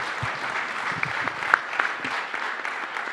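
A conference audience applauds at the close of a panel discussion on LNG producers and consumers. Steady, moderately loud clapping fills the hall throughout, with a few sharper individual claps standing out.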